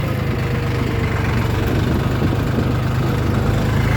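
Tractor engine running steadily while ploughing tall grass with a Bomet plough, a loud, constant low rumble with droning vibration throughout.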